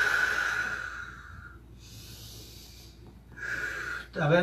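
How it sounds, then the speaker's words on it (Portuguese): Slow, deep breathing during a gentle yoga exercise, with long audible inhales and exhales spaced by quiet pauses and a sharper breath at the end, close and alone without speech. "Tudo é devagar e respirando, eu tô respirando."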